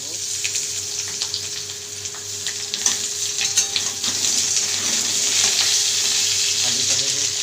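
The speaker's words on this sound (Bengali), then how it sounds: "আলুটা ভাজতে দিয়েছি" Potatoes sizzle and crackle steadily in hot oil in a wok, a dense, continuous frying hiss with small pops and spatters that grows slightly louder toward the end; no talking.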